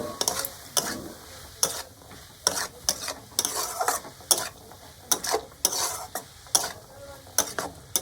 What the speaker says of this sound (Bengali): গাজরটাকে দিয়ে আমি চিকেনের সঙ্গে খুব ভালোভাবে কষিয়ে নেব